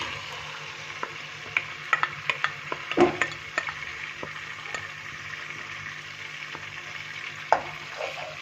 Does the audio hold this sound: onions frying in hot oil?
yes